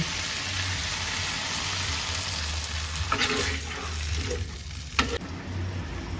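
Spice paste with tomato fries in a pan with a continuous close sizzle, broken by a couple of scraping stirs toward the end; no one speaks.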